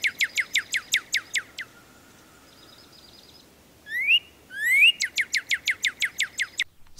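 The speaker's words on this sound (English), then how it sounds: "So that was the sound of the North American Cardinal." North American cardinal song: a fast series of bright, repeated downslurred whistled notes, a pause with softer calls, two rising slurred whistles, then another rapid run of repeated notes, clear and fairly close outdoors.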